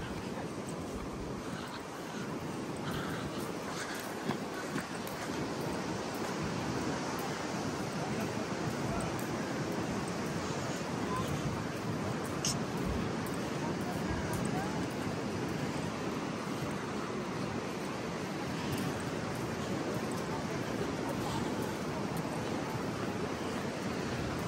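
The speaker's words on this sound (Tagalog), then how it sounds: "Taas ang alon." High waves surge steadily onto the shore, a continuous broad roar of surf without clear breaks, with faint wind mixed in.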